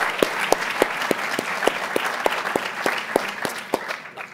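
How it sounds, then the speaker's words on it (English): An audience applauds for Chicago Tribune columnist Eric Zorn at a politics talk, a steady wash of clapping with sharp individual claps standing out, moderately loud and continuing throughout. "a round of applause for Eric as well."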